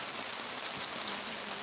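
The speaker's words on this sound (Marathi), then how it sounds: "भरपूर पाऊस चालू आहे." Heavy rain pours down steadily at a roadside vada pav stall, a dense, even hiss of drops on surfaces that holds at the same level throughout, with no voices.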